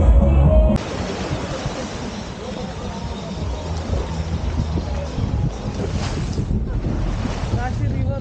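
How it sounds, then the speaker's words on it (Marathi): Boat ride on the sea off Goa, with engine rumble, splashing water and steady wind buffeting the microphone throughout, loud and continuous at close range. "आम्ही फुल फॅमिली चाललो आहे बोटिंग करायला"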